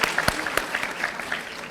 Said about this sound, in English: And clapping is in order.